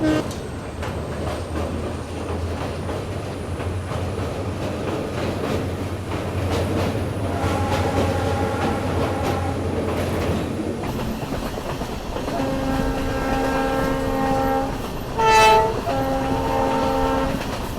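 A passenger train heading to Manipur rolls along the rails with a steady rumble and rhythmic wheel clatter. The sound grows brighter and more tonal partway through, and a short horn blast comes near the end, with no clear talk.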